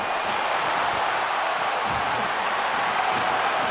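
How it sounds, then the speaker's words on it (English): Crowd cheering in the NHL 24 hockey video game, a dense, steady roar of arena applause and cheers that fills the whole stretch at a constant level. "the crowd's on their feet, saluting the team after all"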